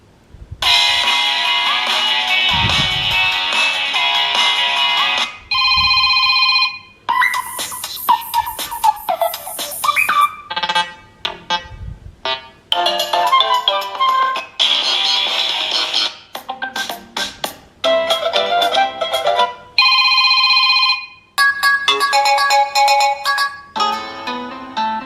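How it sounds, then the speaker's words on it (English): A smartphone plays its default ringtones one after another: bright, loud electronic melodies and chiming tone patterns, each cutting off abruptly before the next starts, with brief gaps between them and no voices. "I bought this smartphone a few days ago and the ringtones are really horrible."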